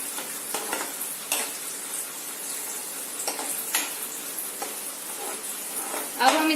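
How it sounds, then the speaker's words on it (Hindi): Onion frying in hot oil in an Indian kitchen, a steady bright sizzle broken by repeated scraping stirs of a spoon against the pan, close and moderately loud. "तेल गरम होने पर इसमें हम डालेंगे प्याज, इसे अच्छी तरह से चलाएंगे"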